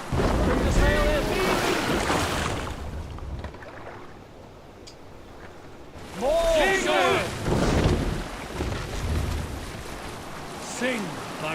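Sailing ship at sea in Assassin's Creed Valhalla: wind and ocean waves wash steadily around the vessel, with voices calling and talking over it in bursts.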